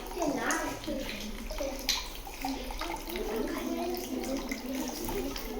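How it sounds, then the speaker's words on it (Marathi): Water streams steadily from holes punched in a container during an air-pressure experiment, a continuous splashing trickle heard under a speaking voice. "जे खालच्या छिद्रातलं पाणी आहे ते सगळ्यात जास्त लांब धार बघा खालच्या छिद्रातली आहे"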